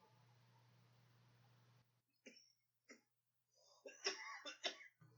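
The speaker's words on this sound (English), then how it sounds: "There's the cough." Several short, sharp coughs break out after a low hum cuts off, starting with two isolated bursts and ending in a quick cluster of throaty coughs, recorded close and fairly quiet.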